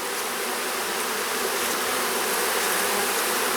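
Honey bees drone steadily at an open backyard hive during an inspection, a dense, continuous buzz that stays loud and even throughout without any talking.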